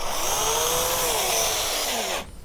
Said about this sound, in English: move your drill around like that, and as you can see, it's coming already